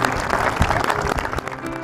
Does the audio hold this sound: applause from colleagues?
yes